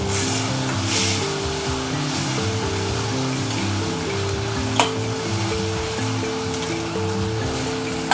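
Finely chopped small onions frying in a pan for a Chettinad karunaikizhangu masiyal, giving a steady, even sizzle throughout with a low tonal hum beneath and no talking.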